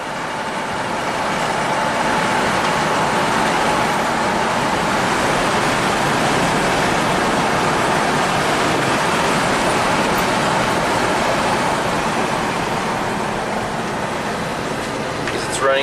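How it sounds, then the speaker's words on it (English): A Nissan Titan V8 engine is revved, a loud, steady, broad roar that holds constant throughout, close and heavy, with no speech over it. "Let's let the V8 sing."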